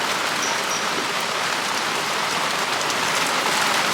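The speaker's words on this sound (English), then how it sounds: "it's been raining all week and it started pouring" Heavy rain pours steadily outside, a dense, even hiss of drops hitting surfaces that stays loud and constant throughout with no voices.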